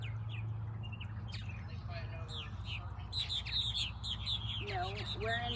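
Many birds chirp and call over steady low background rumble at a nature park, a busy overlapping chorus of tweets and short whistles that grows denser toward the end.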